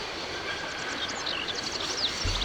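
A spring-operated locomotive idles at a station in the Syberia video game, giving off a continuous rail rumble with faint mechanical clicks and squeaks scattered above it, and a low thump near the end.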